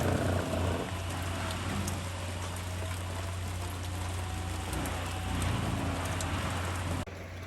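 Steady rain hisses across the whole stretch over a forest homestead, a constant wash with a low hum beneath it and no voices.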